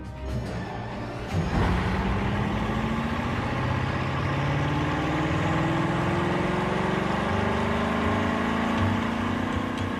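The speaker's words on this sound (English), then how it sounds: "To prove the engine's metal, they run it for 25 hours straight at full throttle." A Bugatti Chiron W16 engine runs at full throttle on a test bench in a dedicated facility, a loud sustained roar with a rising then steady tone after an opening surge, continuous throughout with no speech.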